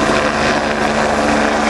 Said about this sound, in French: Cet engin, c'est l'hélicoptère, c'est l'outil qui a sauvé plus de vies qu'il n'en a abîmé.